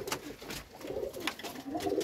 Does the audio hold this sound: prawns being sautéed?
no